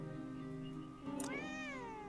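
Spooky, a pet cat, gives a single drawn-out meow that bends in pitch, close and clear over a steady low background hum, with no talking.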